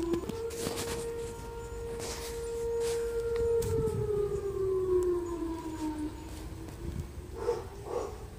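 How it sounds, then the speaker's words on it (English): A Roseville, California tornado siren sounds during a test, a distant, steady wail that slowly falls in pitch and fades out, with faint outdoor background noise. "today we might hear the Roseville tornado siren testing"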